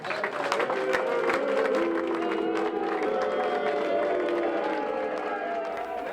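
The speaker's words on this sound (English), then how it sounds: "Let's give him a round of applause" A mixed crowd in Marion applauds as Illinois Governor Bruce Rauner arrives, steady clapping blended with crowd murmur and voices throughout.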